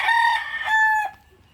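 A rooster from a blended hatch of fighting-cock stock crows once, close and loud, a bright stretched call that fades out at the end, with no voices over it.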